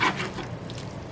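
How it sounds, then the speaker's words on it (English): A spoon stirs and scrapes shepherd's pie filling across the bottom of a hot pan, with a close scraping stroke at the start and end over a soft sizzle. "Mix it around so I can pretty much scrape the bottom off."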